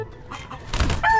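A chicken gives a short squawk near the end, close by and fairly loud, after a quiet moment with faint movement.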